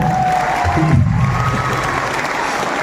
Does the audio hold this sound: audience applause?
yes